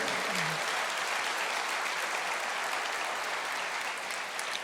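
A congregation at a church sermon breaks into steady, dense applause, a loud wash of clapping that fills the whole stretch without letting up.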